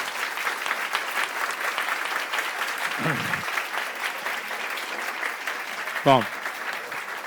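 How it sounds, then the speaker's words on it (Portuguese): Audience applause after a talk on Lacan with a psychoanalyst, a broad steady wash of clapping from a seated crowd, with a brief voice briefly heard during the clapping. "Então, um aplauso,"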